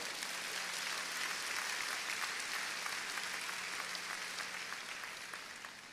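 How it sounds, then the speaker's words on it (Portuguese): A church congregation applauds steadily for about six seconds, a dense, even wash of many hands clapping at once that thins slightly toward the end, with a faint low hum beneath. "Pode aplaudir ao Senhor por isso aí."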